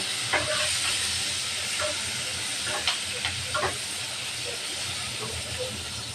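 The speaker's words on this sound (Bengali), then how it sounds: "দিয়ে দেবো পেঁয়াজ কুচি আর মরিচ খালি পেঁয়াজটা ভালোভাবে ভেজে নেব" Chopped onion and chili fry in a pan with a steady, close hissing sizzle that runs throughout, with a few faint clinks over the top.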